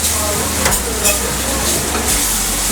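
Coconut curry lobster sauce sizzles steadily in a hot pan, a dense, loud, continuous hiss with a few brief louder bursts as it cooks, no one talking.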